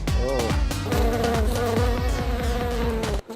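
Honeybees buzz densely around a hive in a loud, continuous, close swarm drone with overlapping wingbeat tones.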